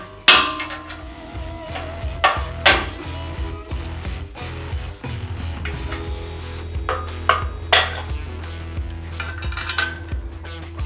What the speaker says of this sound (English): We'll use a dead blow hammer so we don't scratch anything.